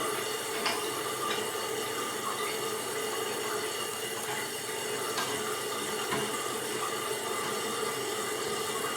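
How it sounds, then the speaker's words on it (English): A toilet tank refilling with water after its leaking valves were replaced, giving a steady, continuous rush and hiss of inflowing water at close range, with faint clicks and no voices. "in the time that it took the tank to fill up"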